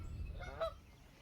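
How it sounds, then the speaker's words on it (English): A Canada goose gives a single faint honk from a distance near the water, with no talk over it. "Here's a Canada goose, kind of a familiar sight to most people."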